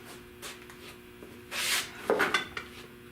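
Old razor blade scraping excess paint off an engine block during prep, a few short rough scrapes rising out of quiet background, brief and fairly close.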